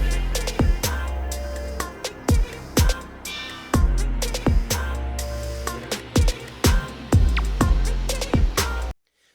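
A loud, heavily compressed electronic dance beat with punchy, clipped kick drums and snappy hits repeating in a steady rhythm, then cutting off abruptly at the end.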